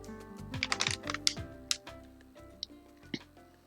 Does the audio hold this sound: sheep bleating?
no